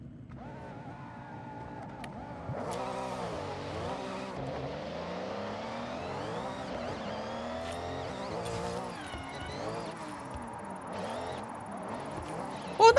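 Mazda Miata drifting in Forza Horizon, with the engine revving and rising and falling in pitch through long sliding turns, tire squeal woven in, steady and fairly close, ending in a sudden sharp thump.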